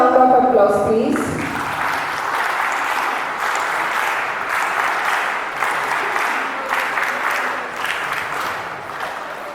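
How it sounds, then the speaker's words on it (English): An audience at a school investiture ceremony applauds, a steady wash of clapping that lasts several seconds after a brief spoken announcement at the start. "Give them a round of applause,"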